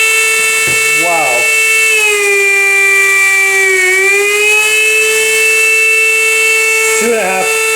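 A mini magnetic window motor spins at 26,500 RPM, giving a loud, steady high-pitched electric whine with rich harmonics. The pitch dips briefly midway, and short chirping wobbles are heard near the start and end.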